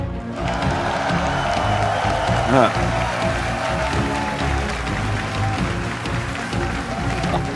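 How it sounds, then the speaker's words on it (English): A live audience at a Magiccon Amsterdam panel breaks into a long, steady wave of applause and cheering that stays loud and dense throughout, with one brief louder swell near the middle. "give a massive round of applause, Amsterdam, and you at home"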